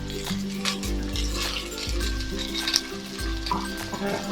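Chopped medium onions sizzle and fry in a pan with salt while being stirred for a Kerala-style tattukada beef curry, a steady close hiss with occasional spoon scrapes and no talk.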